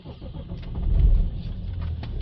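A BMW 330d diesel engine being started, a low cranking rumble that swells into a brief surge and then settles into a steady idle, heard close from inside the car.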